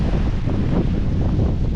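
Strong wind buffets the microphone on Diani beach, a loud, constant low roar that continues without pause, with possible surf blended into it.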